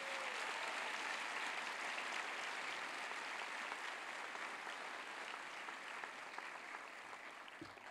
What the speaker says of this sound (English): Round of applause for our priests.